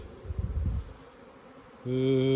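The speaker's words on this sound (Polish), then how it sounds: "No i pszczółki pięknie latają." Honey bees buzz faintly in flight around hives, followed by a sudden louder steady hum close to the microphone.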